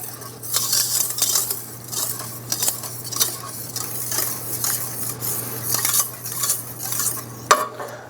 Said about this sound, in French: je vais utiliser un fouet, mais je ne veux pas fouetter, je veux juste mélanger